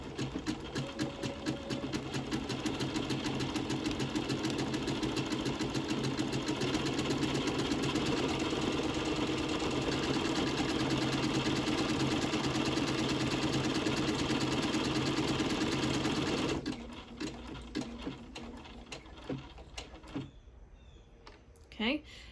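A sewing machine stitches a buttonhole on a shirt with a fast, steady mechanical whir and rapid needle chatter. It runs continuously, then stops abruptly near the end, leaving a few quiet clicks and handling sounds.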